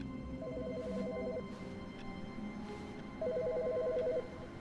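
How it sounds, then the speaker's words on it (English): A telephone rings in The Stanley Parable: Ultra Deluxe, two bursts of a rapid warbling electronic trill separated by a pause, clear and fairly close over a low steady ambient hum. "Wait, there's a phone ringing."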